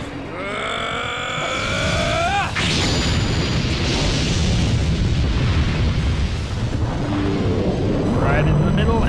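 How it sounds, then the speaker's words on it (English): Dragon magic spell Explosion going off in Legend of Dragoon: a rising synthetic sweep gives way to a sustained, loud roaring blast with rumbling noise that fills the rest of the passage. "our new dragon magic we picked up was Explosion"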